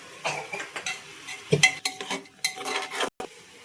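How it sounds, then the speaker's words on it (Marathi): Potato and cauliflower are stirred in oil in a pan, with clinking utensil scrapes and knocks against metal over a faint sizzle in short, irregular bursts. "आता आपल्याला बटाटा, फ्लॉवर हे सगळं टाकायचं. आणि हे सगळं तेलामध्ये परतून भाजून थोडंसं घेणार आहे आपण"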